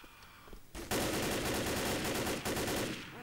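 A loud, close burst of assault rifle fire from the video game Left 4 Dead rattles rapidly for about two seconds, following a brief quieter lead-in.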